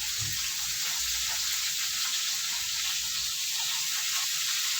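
Adobo frying in a pan, a dense steady hiss of sizzling oil close up and continuous with faint low bumps beneath, no talk.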